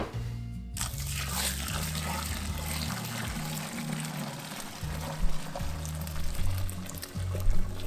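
Hot 168-degree sparge water pours steadily for home brewing, a continuous rushing splash that runs for several seconds at moderate loudness with a low rhythmic hum beneath it, and no talking.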